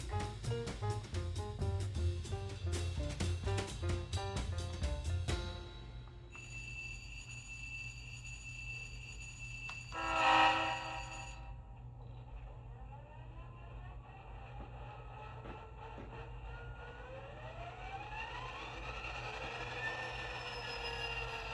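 A model diesel locomotive sound decoder (Tsunami 2) plays a small diesel engine idling with a rhythmic throb, then rumbling on steadily while a horn blast sounds briefly and pitch-rising whines follow.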